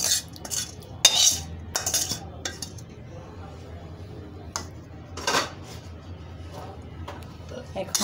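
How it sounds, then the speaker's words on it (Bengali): Noodles being tossed with cooked vegetables and meat in a pan, giving scattered scraping and clinking of a utensil against the pan, some sharper bursts, over a low kitchen background with talk in places. "এখন এগুলো খুব ভালো করে সবগুলো নুডলসের সাথে মিক্স করে নিতে হবে।"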